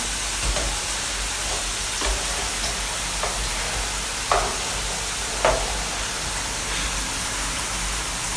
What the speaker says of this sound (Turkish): soğanlar da bir yana kızarmaya başladı